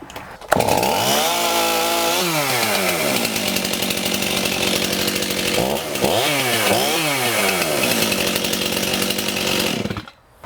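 A Stihl chainsaw starts up and revs hard, rising and falling through several throttle bursts before dropping back toward idle, loud and close with no talking.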